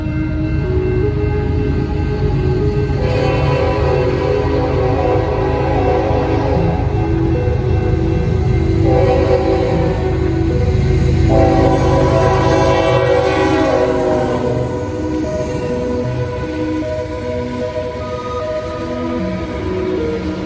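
A CN freight train rolls past on the Iron Range, loud and continuous rumble with several long horn blasts sounding over the passing cars.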